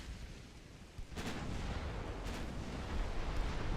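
Torpedoes striking a ship in a naval warfare video game, heard as a heavy, rumbling explosion that swells into sustained roaring noise, with further deep booms following.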